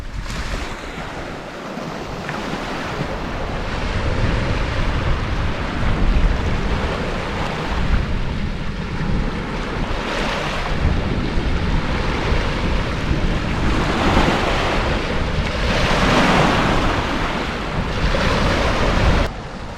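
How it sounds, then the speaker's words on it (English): Ocean waves crash and wash repeatedly onto the shore at The Knap in Barry, UK, surging and receding in a loud, steady rhythm with wind buffeting the microphone. "Listen to those waves."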